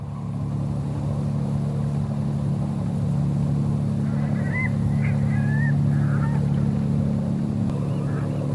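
A few short honks from a bird in The Journey Down adventure game, heard faintly midway through over a steady low engine-like drone.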